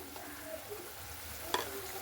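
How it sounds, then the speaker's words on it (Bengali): Spice masala stirred in very hot oil in a pan, a steady soft sizzle with faint scraping and one sharp clink near the end. "এরপর দেখুন মশলাটা দিয়ে খুব ভালো করে একটু নাড়াচাড়া করে নিচ্ছি। তেলটা কিন্তু খুবই গরম হয়ে গিয়েছিলো এখানে।"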